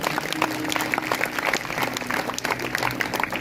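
A church congregation claps loudly and steadily for several seconds, a dense unbroken wash of many hands with no voices over it.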